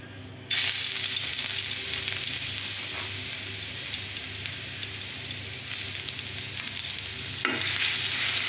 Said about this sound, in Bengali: একটু নেড়ে চেড়ে বাদামি কালার করে নেব